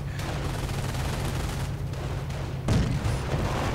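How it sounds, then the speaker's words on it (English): Rapid sustained gunfire from an MG42 machine gun in the real-time strategy game Company of Heroes, a dense continuous rattle with a heavier burst near the end, loud and without talk. "they're coming under fire from the MG42"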